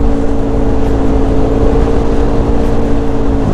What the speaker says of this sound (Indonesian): Gue kali ini mau ngerevisi suara knalpot gue Proliner nih